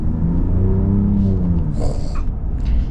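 Ram RHO pickup's inline-six engine idles and runs with a steady, loud low rumble throughout, a smooth continuous drone with no speech over it.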